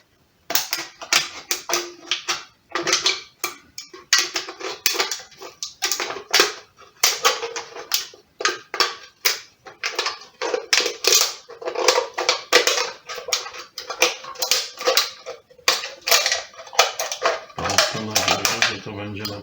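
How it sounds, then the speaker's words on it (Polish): A small knife and then scissors cut through material, making a rapid run of crisp, close snipping and clicking sounds. Near the end a low, steady hum comes in. No one speaks. "nożykiem zaczniemy, a nożyczkami skończymy."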